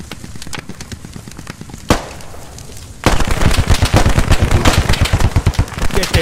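Gunfire in the military video game Squad during the Al Basrah invasion: a string of rapid shots, then a short sharp crack, then sustained loud automatic bursts, close and dense, with no talk over them.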